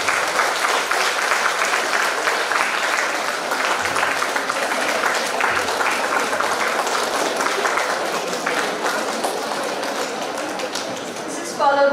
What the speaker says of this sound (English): So huge round of applause, a true achievement from the postgraduates.